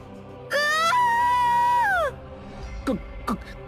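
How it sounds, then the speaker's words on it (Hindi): A woman's long, loud, high-pitched scream from a cartoon ghost story about a village witch wavers for about a second and a half, followed by shorter shrill cries. "जोरदार चीख निकल गई।"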